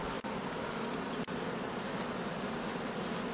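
Honeybees buzz steadily at a hive in an apiary, a dense continuous hum with two brief clicks breaking through.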